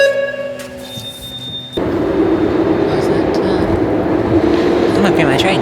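A train rolls through a Chicago-area station, a steady broadband rumble that jumps louder partway through and holds, with a brief high squeal early on and faint background voices.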